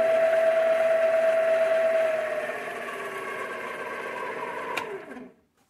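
A Sumore 7x14 mini lathe fitted with an upgraded chuck runs with a steady mechanical whine and hum, a high tone dropping away after about two seconds, then spins down and stops near the end.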